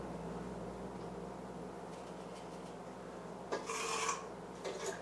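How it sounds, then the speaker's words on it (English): A utensil scrapes cinnamon roll mixture from a bowl, soft rubbing strokes over background hum, ending in a couple of sharper, brighter scrapes. "Scrape down my bowl for the last little bit of mixture."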